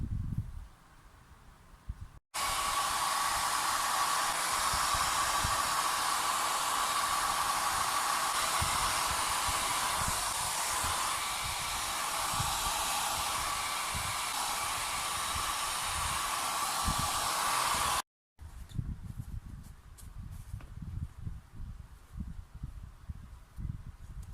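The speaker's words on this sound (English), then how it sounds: "It's actually just a conventional hair blow dryer." A hair dryer drying glue on a sneaker sole blows with a steady, loud whooshing hiss and a faint whine for about fifteen seconds, switched on and off between quieter room noise.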